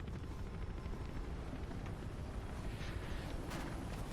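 Helicopter in the Mirror's Edge video game, a faint, steady rotor drone with rumbling wash, constant throughout with a couple of brief brighter bursts near the end.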